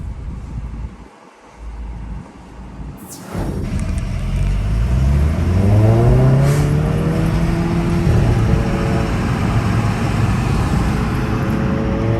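A Volkswagen GTI with performance upgrades accelerates hard from inside the cabin, its engine note rising steadily through the gears into a loud, sustained roar over road and wind noise, after a quieter opening moment and a brief thump.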